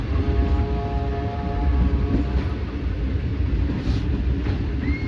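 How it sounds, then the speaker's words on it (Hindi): The 15 Up Karachi Express passes slowly through Mian Channu railway station, a continuous low rumble of rolling coaches with a faint steady tonal hum, heard close and without speech. "ट्रेन स्लो पास होगी यहाँ से।"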